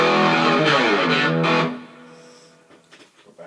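Electric guitar played through an Epiphone Valve Junior tube amp on a distortion with chorus patch, a loud, harmonically dense chord that rings for over a second, then cuts off into faint plucked notes and amp hiss.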